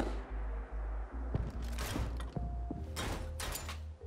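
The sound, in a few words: heavy weapon reload in Fallout 4 weapon mod, video game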